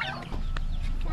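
Chickens cluck and a rooster mutters up close while feeding in the Philippines, a brief, busy burst of fowl sounds.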